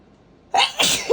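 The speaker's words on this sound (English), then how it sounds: "Whenever I start working my soil in the morning, the sneezes come." A single sharp sneeze bursts out loud and close after a moment of quiet, triggered while working potting soil for propagating variegated corncob cacti.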